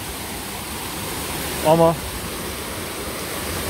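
The Çalkara waterfall pours in a steady, broadband rushing wash close by, while a person briefly speaks over the constant flow.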